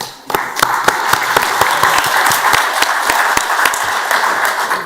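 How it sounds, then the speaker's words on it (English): Audience applause at an economic forum panel session, a full, loud burst of many hands clapping that rises quickly and holds steady for several seconds before starting to fade. "that was applause on behalf of the panelists towards you"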